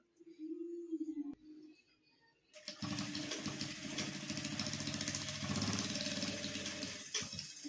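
A sewing machine stitches the corners of a homemade makeup pouch, starting after a few seconds of quiet talk and then running in a fast, rattling, continuous whir up close.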